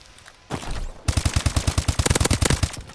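Automatic gunfire in a free-for-all match of Call of Duty: Advanced Warfare, a loud rapid burst of evenly spaced shots following a shorter muffled rattle, close and dominant.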